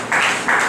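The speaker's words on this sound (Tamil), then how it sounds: "கைதட்டுங்க" A church congregation claps during a sermon, with two dense bursts of applause in quick succession that are loud and close, with no talking.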